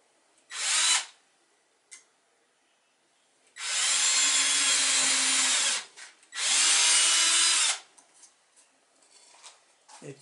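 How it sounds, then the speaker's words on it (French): A power drill bores screw holes in a wooden toy boat, with a short first burst followed by two longer, steady whirring runs separated by brief pauses. "Donc tu fais les trous des vis."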